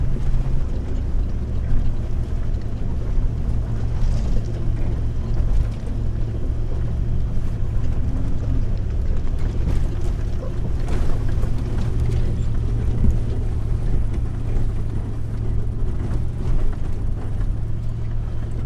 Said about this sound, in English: Traction control's doing its thing, getting us up here. Pretty loose and scrabbly, so as the tyres spin, the traction control grabs them